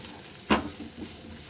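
Spices and aromatics for a spicy Telugu fish masala curry fry in a pan, a brief loud sizzle burst as they are stirred, then settling into a faint, steady crackle with no one speaking.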